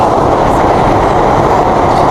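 London Underground train running, a loud continuous low rumble and roar of wheels and carriage noise heard from inside, with no voices.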